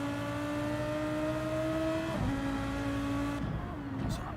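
Race cars, a Nissan chasing a Lamborghini around Brands Hatch GP circuit in a racing video game, drone steadily at high revs with sustained engine tones that shift pitch as they change gear, loud and continuous.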